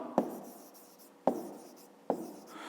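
Three separate pen strokes on paper while working out the divisors of numbers in a fifth-grade maths exercise, each a sharp scratchy onset followed by a short trailing scrape, spaced about a second apart, close and quiet with no talking.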